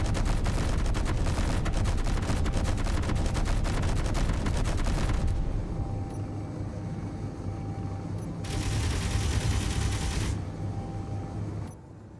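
Fighter ship cannons firing in Space Engineers, a loud continuous stream of rapid shots that stops, then resumes for a second sustained burst before cutting out.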